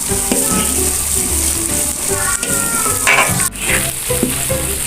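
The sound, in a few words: chili peppers frying and being stirred in a pan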